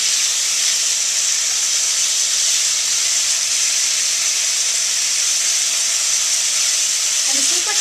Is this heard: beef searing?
yes